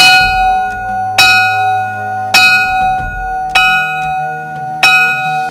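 A bell is struck five times at an even pace, each loud, ringing strike decaying slowly into a sustained metallic tone before the next.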